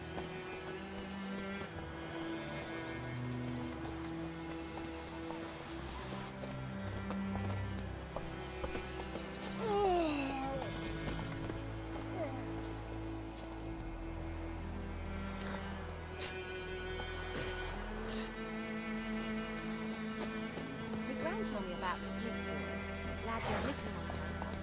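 Horse hooves clip-clop at a steady pace in the video game The Witcher 3: Wild Hunt, alongside a neigh and ambient music, with a voice talking in the foreground.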